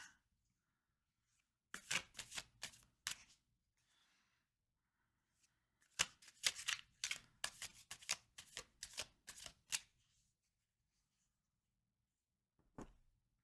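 Tarot cards are handled and shuffled in quiet bursts of quick riffling and flicking, two longer flurries and a final single snap, faint and close, with no talk.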